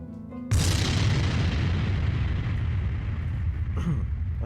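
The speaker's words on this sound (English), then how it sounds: "Some kind of big explosion?" A big explosion erupts suddenly with a sharp onset, then a loud, sustained rumbling roar that slowly fades over several seconds.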